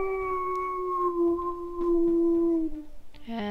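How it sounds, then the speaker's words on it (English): A wolf's long primary howl in the WolfQuest video game, a sustained clear tone that slowly falls in pitch over about three seconds, ending with a brief break into a rougher sound. "Primary howl."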